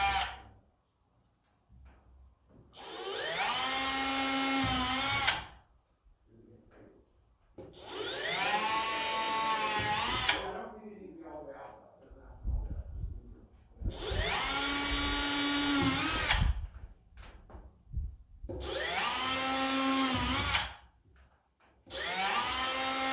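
A power drill bores holes into a DIY chalkboard hanger. There are four loud, whining bursts of several seconds each, with rising and falling pitch and short quiet pauses between them.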